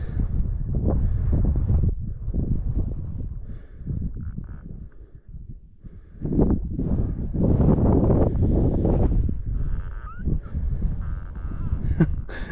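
Gusty wind buffets the microphone in low, uneven surges near Page, Arizona, rising and falling over several seconds, with a few faint rustles and brief higher sounds near the end.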